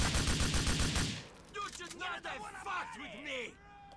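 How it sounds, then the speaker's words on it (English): Gunshots in Grand Theft Auto IV rattle off as a rapid burst of loud automatic fire, then stop as game voices and shouting take over. "I'm trying to find where those gunshots are coming from"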